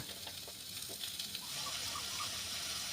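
Garlic, ginger and curry leaves sauté in a little oil while a Tamil country-chicken curry is being made, giving a steady, moderately loud sizzle with a soft hiss and no voice.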